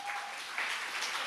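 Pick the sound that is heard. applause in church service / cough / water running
applause in church service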